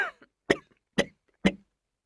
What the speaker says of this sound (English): I can't stop coughing and blowing my nose.